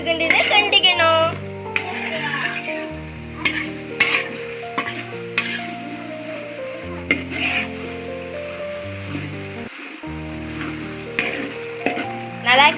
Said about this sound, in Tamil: இப்போ வந்து அரைச்ச மிளகா போட்டு நல்லா கிண்டிக்கணும்.